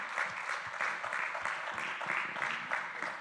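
A church audience applauds in a steady, moderately loud patter of many hands, slightly rising and falling in intensity.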